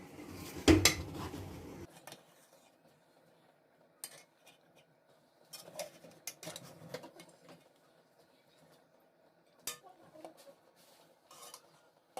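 A metal spoon clinks and scrapes against a cooking pot while Sindhi fish biryani is gently handled, with sparse, separate taps and short scraping strokes spread across an otherwise quiet kitchen.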